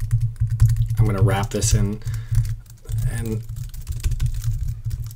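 Keys tapped on a computer keyboard while working in R, quick clicks over a low hum, with someone talking briefly partway through.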